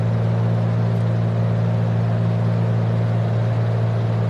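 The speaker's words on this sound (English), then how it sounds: "back the engine off a little bit" A boat engine on the Bay of Naples drones steadily at idle with the revs easing down, a constant low hum heard close up with no talking.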